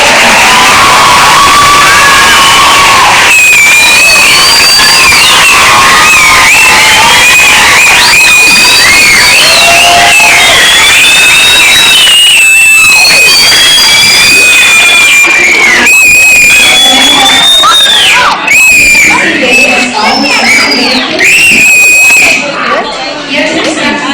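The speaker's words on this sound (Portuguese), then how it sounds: "Uma salva de palmas." Audience at a school literary fair clapping and cheering loudly and continuously, with children's shouts, whoops and chatter mixed in throughout, the crowd noise sustained and close.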